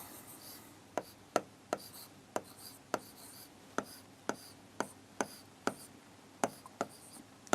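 Handwriting during a maths lesson, with a pen or chalk making sharp, regular tapping strokes about twice a second against a quiet room background, with no talking over it.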